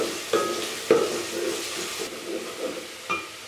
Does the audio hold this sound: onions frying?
yes